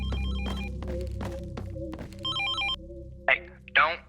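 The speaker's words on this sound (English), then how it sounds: "There's a phone ringing." A telephone rings in the SCP: Infohazard video game, its electronic ring repeating in short bursts amid heavy thuds and footsteps, with a voice speaking over it.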